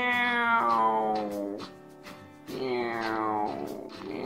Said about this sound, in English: they come across a little house cat.